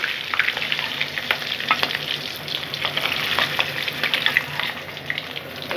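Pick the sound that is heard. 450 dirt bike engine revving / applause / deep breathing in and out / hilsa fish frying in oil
hilsa fish frying in oil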